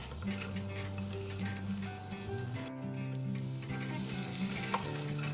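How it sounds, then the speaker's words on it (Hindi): Rice for a cashew pulao frying on a medium flame while being stirred in a pan, a steady, loud, continuous sizzle with scraping stirs, under soft background music. "और अब चावल को हमें 1 मिनट तक मीडियम फ्लेम पे पकाना है।"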